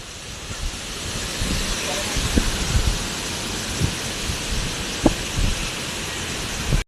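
Storm with heavy rain, a steady broadband hiss of rainfall filling the whole stretch, punctuated by a few short thumps and low rumbles of thunder at moderate distance.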